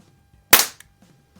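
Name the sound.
Crosman 760 pump air rifle shot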